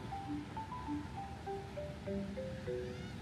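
Ocean surf rolls steadily at Bondi Beach in Sydney, a soft continuous wash of waves heard from the shore, with faint tonal sounds drifting over it and no talking.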